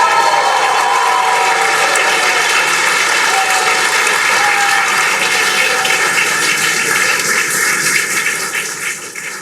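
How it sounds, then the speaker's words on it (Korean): Applause greets the Crew-9 spacecraft splashdown as it plays from a broadcast, a continuous, loud wash of clapping with a voice speaking over it, tapering off near the end. "왜 박수까지 나왔냐면요,"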